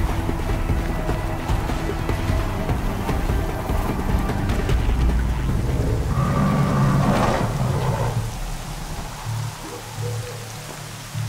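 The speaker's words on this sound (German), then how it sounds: "Es regnet im Haus, ich sag's nur." Steady rain pours in the video game Horizon Zero Dawn, a constant hiss of drops on surfaces that holds level throughout, with a brief denser swell partway through before settling back.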